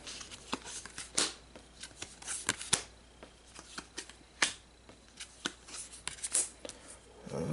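Cards are drawn and handled during a Marvel Champions card game, with soft close slides, flicks and riffles of cardboard in irregular bursts over a quiet background and no talking.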